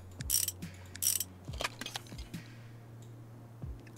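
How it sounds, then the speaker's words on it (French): Motorcycle nuts being tightened in the Motorcycle Mechanic Simulator 2021 video game: a series of quick ratcheting clicks and mechanical clunks in irregular bursts over a steady low hum, with no talking. "On resserre tous les écrous."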